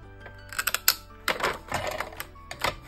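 A die cutting machine punching through foil, giving a run of sharp mechanical clacks and short ratcheting bursts in quick, uneven succession, close and fairly loud, with no talk.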